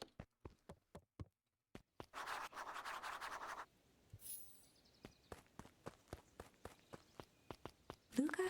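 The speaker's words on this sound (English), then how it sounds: "Luca heard a group of footsteps." Footsteps in the video game Beacon Pines, a run of crisp evenly spaced knocking steps, pausing briefly, then resuming steadily, with a soft rustling wash in between.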